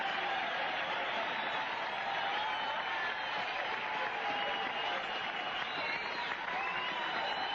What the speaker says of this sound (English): The applause you may hear in the background